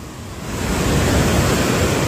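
Ocean waves roll in with a steady, loud broadband wash that swells slightly and then holds, with no voices over it.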